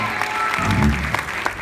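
An audience at a school arts concert claps for a song mashup, a short burst of dense applause with a voice briefly audible beneath it.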